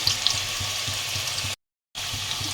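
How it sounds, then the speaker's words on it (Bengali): Potatoes frying in hot oil left over from frying fish-roe fritters, a steady close sizzle with faint stirring, broken by a brief gap of silence before the sizzling resumes. "আলুটা ভেজে নিচ্ছি"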